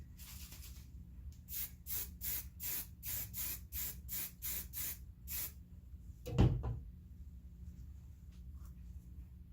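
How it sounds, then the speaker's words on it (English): About ten short, even spray bursts hit a tumbler being glittered, fired in quick rhythmic succession, followed by a single dull knock. "So we're just going to spray right on my area and we'll see how it works."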